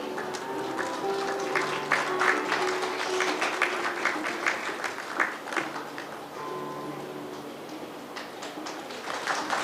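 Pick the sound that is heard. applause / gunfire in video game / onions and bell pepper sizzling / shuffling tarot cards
applause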